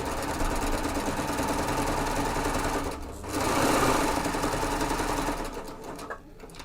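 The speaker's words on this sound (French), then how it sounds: "Donc, je fais ma couture ici, donc sur mon jersey." A Gloria coverstitch sewing machine hems jersey fabric, whirring loudly and steadily at close range, pausing briefly once before resuming, then slowing and stopping at the end.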